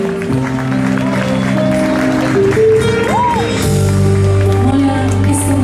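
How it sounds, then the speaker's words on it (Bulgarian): Audience at a prom clapping for a couple's dance, with tonal music playing loudly over it and some crowd noise mixed in. "Моля за вашите бурни аплодисменти."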